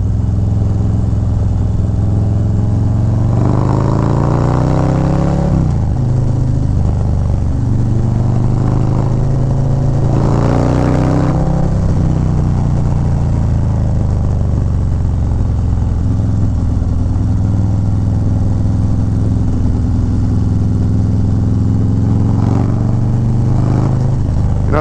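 Harley-Davidson Low Rider ST motorcycle with a 131 engine riding around town, a steady deep engine drone throughout with two rising revs as the rider accelerates, loud and close.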